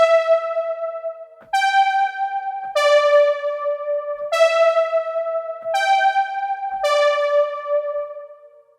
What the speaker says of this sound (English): So default sounds sound like this.